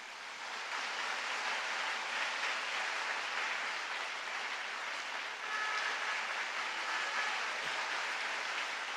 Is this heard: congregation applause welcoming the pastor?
yes